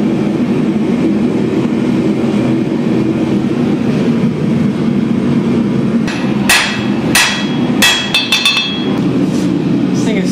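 Steel hammer blows strike a Damascus san-mai kukri blade being forged and bevelled, a string of sharp ringing impacts arriving in the latter part after a stretch of low rumbling background, with brief talk.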